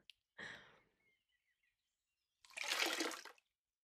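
Warm water splashes and pours in a quiet room, first a short splash, then a pause with faint trickling, then a longer, louder pour of about a second, with no voices.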